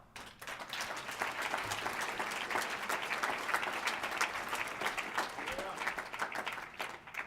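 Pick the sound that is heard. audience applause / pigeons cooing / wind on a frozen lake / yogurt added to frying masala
audience applause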